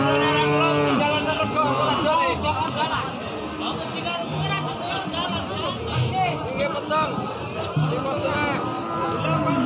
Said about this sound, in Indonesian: Sapi-sapi hidupan ini